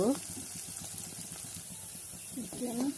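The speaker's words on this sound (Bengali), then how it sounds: "পেঁয়াজ রসুন এবার ভালো করে ভাজি করে নিব" Onion and garlic fry in a pan with cumin seeds. A steady soft sizzle runs underneath, with faint stirring or scraping sounds and brief voices at the start and end.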